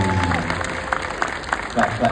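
An audience at a DreamCon panel on content monetization applauds as the panelists come on stage, a moderate ongoing patter of claps from a crowd with scattered louder hand claps and some talking mixed in.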